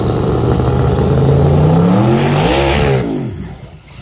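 Twin turbo big block drag race car engine revving loudly up through a rising pitch, then easing off into a lower idle near the end, close and alone on a wet street race day.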